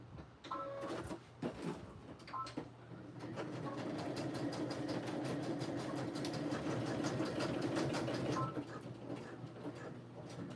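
A sewing machine stitches a purse with a steady mechanical whir and rapid needle tapping, preceded by a few handling clicks and bumps, running continuously for several seconds before slowing; no talking.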